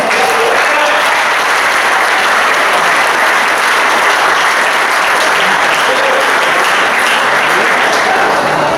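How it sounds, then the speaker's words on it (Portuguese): A church congregation applauds in a worship service, sustained loud clapping that fills the whole space evenly from start to finish with no break. "Você pode aplaudir ao Senhor?"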